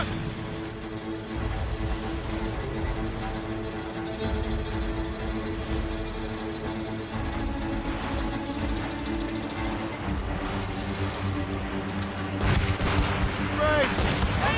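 Ship cannons booming in the naval battle of the Assassin's Creed Rogue video game, repeated heavy blasts over a loud, dense soundscape with shouted crew voices mixed in.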